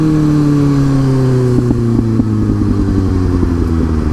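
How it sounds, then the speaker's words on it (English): A motorcycle engine braking while downshifting, loud and close, with falling engine pitch stepped by gear changes and blips of the throttle, the exhaust crackling and clattering throughout. "This is all engine braking right here."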